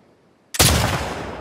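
A single rifle shot during shooting practice in The Last of Us Part II cracks out sharply after a near-silent pause, then rings and slowly decays.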